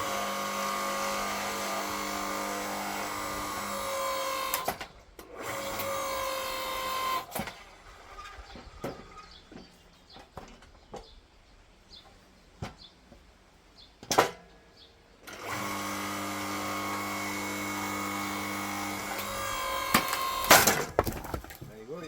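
A log splitter runs on a dense log with a steady machine drone, which drops to a quieter stretch in the middle. Sharp, sudden cracks of splitting wood burst out midway and again near the end.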